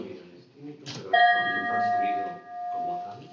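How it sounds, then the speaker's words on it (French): The bronze bell of Coruche, unheard since the 13th century, is struck once, ringing out with a sustained metallic tone that slowly fades while a person keeps talking over it. "vous pouvez entendre le son de la cloche de Coruche qui n'a pas été entendu depuis le XIIIe siècle."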